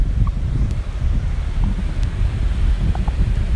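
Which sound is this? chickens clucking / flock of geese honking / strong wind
strong wind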